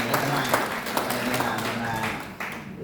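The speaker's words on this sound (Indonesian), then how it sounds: "Tepuk tangan buat Tuhan." Church congregation applause during a service, a loud dense burst of clapping with voices mixed in, steady throughout with a brief dip near the end.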